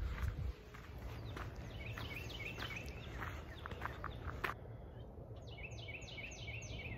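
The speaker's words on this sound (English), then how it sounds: "That bird that sounds like it's going cheeseburger, cheeseburger, cheeseburger, cheeseburger. It's a Carolina wren." A Carolina wren sings outdoors, repeating a quick rolling three-note phrase several times, faint against a steady hum of insects and background noise.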